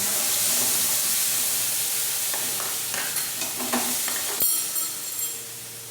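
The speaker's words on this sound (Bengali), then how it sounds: "এই মশলাটা ভালো করে কষিয়ে নেব" Ground spice paste frying in a pan, thinned with a splash of water, a continuous close sizzle with several spoon scrapes and clinks toward the end, no voices.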